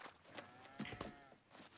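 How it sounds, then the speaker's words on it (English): Cattle in a barn in Farming Simulator 22 give a short, clear moo amid soft shuffling footsteps, fairly close and moderately loud. "And I have 23 cows in here still."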